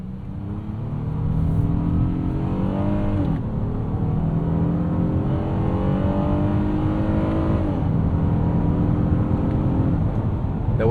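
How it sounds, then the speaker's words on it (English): A 2025 Honda Odyssey minivan's V6 revs hard through aggressive downshifts, the engine note climbing and dropping in repeated sweeps, loud and close from the cabin, no talking. "We'll actually let you do some aggressive downshifts there."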